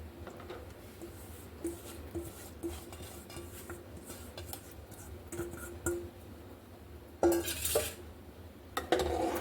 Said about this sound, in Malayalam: നല്ലപോലെ ഇളക്കി ഇത് മിക്സ് ചെയ്യാം.